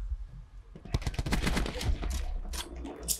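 Light machine gun fire in Call of Duty Black Ops 4, a rapid burst of close, sharp shots followed by scattered single cracks.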